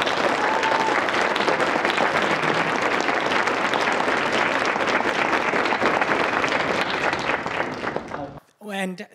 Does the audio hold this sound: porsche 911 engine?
no